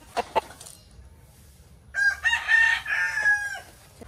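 Battle cross gamecock rooster giving a loud, close crow of about a second and a half, preceded by a couple of brief clucks, with no talk.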